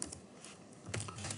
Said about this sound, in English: you can grab the text tool and just keep typing